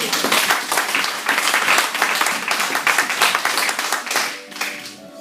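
A church congregation applauds in a loud, dense burst of clapping that carries on steadily for several seconds before thinning out toward the end.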